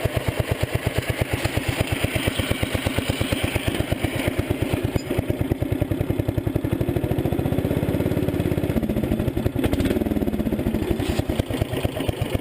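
The engine of a 1975 Sears Suburban ST16 garden tractor running at a steady idle, a close, loud, rapid even putter with some mechanical clatter, unbroken throughout.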